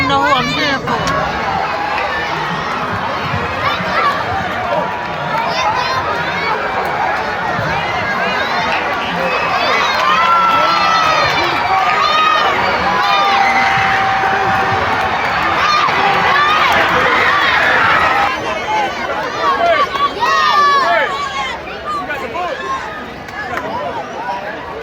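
A crowd at an evening pony race on the Fourth of July cheers and shouts continuously, with children's high voices and nearby talk mixed into the steady roar before it thins toward the end.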